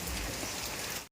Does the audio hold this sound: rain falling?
yes